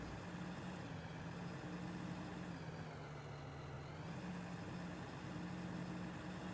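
Low, steady drone of a tractor engine straining to pull free in Farming Simulator 15, a continuous hum with a sustained low tone that dips slightly midway, no voices.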